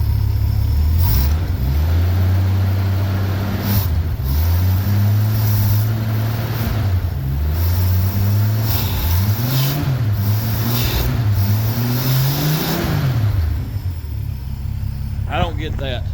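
A Ford Fairmont engine, running again after sitting 35 years and smoking on even slight revs, idles with a low rumble and rises and falls through several gentle revs. It is close and steady, with a voice talking over it.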